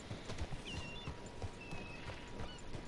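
Horse hooves clip-clop softly on the ground in Red Dead Redemption 2, a steady uneven walking rhythm heard faintly at a distance, with a brief whinny-like tone and light ambient background.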